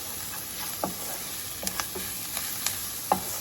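Onions seasoned with spicy garlic sizzle steadily in a skillet, a soft continuous frying hiss broken by a few light utensil taps and stirring scrapes, close by with no talking.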